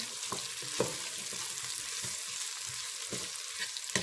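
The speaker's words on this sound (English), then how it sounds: "Get these onions sauteed and cooked down." Onions sautéing in a pan while turkey wings and greens are being cooked, a steady close sizzle and frying hiss with a few soft clicks of stirring, no voices.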